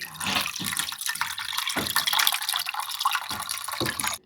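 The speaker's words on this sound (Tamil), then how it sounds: "புளி தண்ணி ஊற்றிக்கலாம்." Tamarind water for panipuri is poured in a continuous, splashing stream at close range, trickling and gurgling for several seconds before it stops abruptly.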